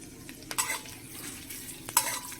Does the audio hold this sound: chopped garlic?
yes